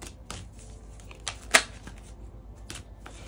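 Tarot cards being shuffled by hand, giving soft riffles and light taps with one sharper flick near the middle, quiet and close, with no talking.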